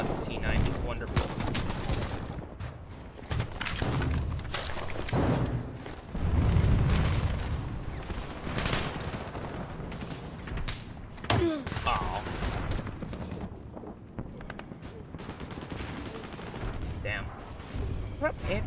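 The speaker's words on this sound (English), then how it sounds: "That guy just killed me with an anti-armor rifle, I think." Heavy gunfire in War Thunder infantry combat, including anti-armor rifle shots, crack in bursts and single loud reports amid distant booms, with someone talking over the battle.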